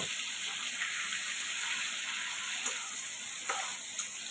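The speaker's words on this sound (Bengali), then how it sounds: "হালকা ভেজে নিব মাছটা" Aair fish lightly fried in a pan gives a steady, dense sizzle with a few faint pops and stirring touches, continuous and fairly quiet, with no voices.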